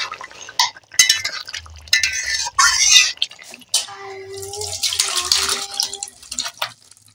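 Rohu fish curry is poured out of a cooking pot in a home kitchen: wet sloshing and splashing come in short bursts with small clinks of the pot, while someone talks between the pours.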